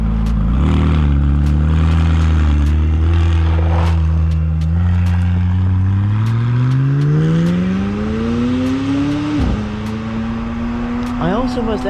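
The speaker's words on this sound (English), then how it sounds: "With the exhaust back there coming up through the hood, and just the sound and the immersion that you get" McLaren 600LT supercar engine and exhaust revving loud and close, pitch climbing steadily through a long pull before dropping sharply at a shift and rising again.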